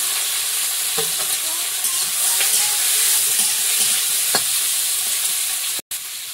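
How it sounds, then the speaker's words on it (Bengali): Prawns fry in hot oil with panch phoron and chopped onion, giving a steady, close sizzle that runs throughout, with a few soft stirring clicks and a brief cut near the end. "এই পাশে তেলের মধ্যে একটু পাঁচ ফোড়ন দিয়ে আর পেঁয়াজ কুচি, চিংড়ি মাছটা দিয়ে দেবো।"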